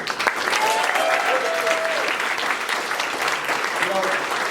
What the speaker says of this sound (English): Make some noise for our coach, Joel Fragomeni.